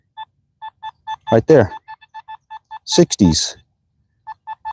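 Short, sharp high-pitched beeps from a metal detector repeat in a steady rhythm across the clip, signalling a buried penny; a voice talks over the middle section while the tones keep pulsing underneath.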